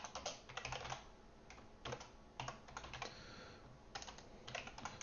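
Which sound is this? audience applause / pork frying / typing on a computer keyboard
typing on a computer keyboard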